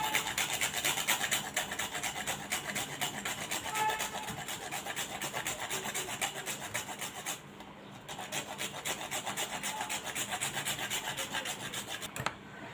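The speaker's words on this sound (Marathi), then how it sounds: "यामध्ये मी आता हे थोडंसं जायफळ आहे ते किसून घालणार आहे" A piece of nutmeg is grated over a pan of melting jaggery for puran poli, giving a fast, steady rasping scrape of repeated strokes, close and continuous with a brief pause midway.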